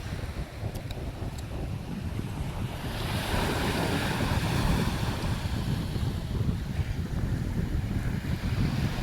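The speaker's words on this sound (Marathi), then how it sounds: "हे आमचं गावखडी बीच" Sea waves wash steadily onto Gavkhadi beach in coastal Konkan, a continuous broadband surf roar with gusty wind buffeting the microphone, swelling louder midway and staying full, with no voices.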